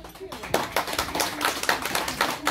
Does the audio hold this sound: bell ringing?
no